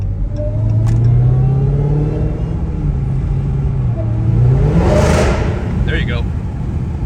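A Dodge Charger Hellcat accelerating from a cold stop, its engine rising in a loud, deep rumbling pull from inside the car, with a voice talking over it.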